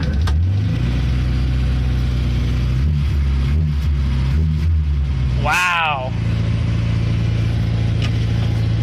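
An old Fiat car engine, choked and fed by an SU fuel pump, runs with a steady low rumble and occasional revs throughout, with a brief spoken exclamation partway through.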